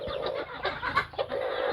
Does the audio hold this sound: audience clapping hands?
no